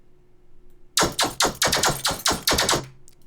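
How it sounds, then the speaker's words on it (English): Cut-up, looped Foley glass sounds layered with a synth stab in an electronic track hit in a quick irregular run of about a dozen sharp bright strikes, loud and alone. "these are just like Foley glass sounds that I cut up and looped to hit with every hit of the main stab sound"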